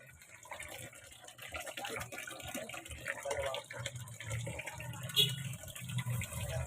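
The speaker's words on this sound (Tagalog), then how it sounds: "So, pinatulo ko na yung gripo." Water runs from a tap in a soft, steady stream while doing laundry, with scattered clinks and faint background voices, ending with a brief louder splash.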